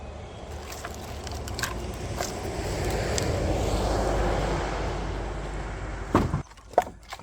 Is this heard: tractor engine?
yes